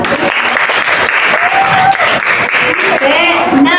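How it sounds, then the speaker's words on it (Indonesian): Students in a coding and AI training class applaud a student group, a loud, dense burst of clapping close by, with voices mixed in throughout. "Beri tepuk tangan untuk kelompok"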